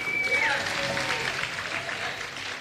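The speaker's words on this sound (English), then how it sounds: "If everyone can give a round of applause to the Koreatown Senior and Community Center." Round of applause from a crowd at a 30th anniversary community gathering in Los Angeles, steady clapping with a whistle near the start and murmured voices underneath.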